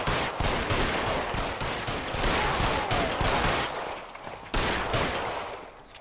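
Rapid bursts of gunfire in the LA Noire video game, loud and dense shots crackling one after another in near-continuous volleys for several seconds.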